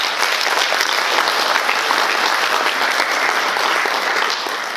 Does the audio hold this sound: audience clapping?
yes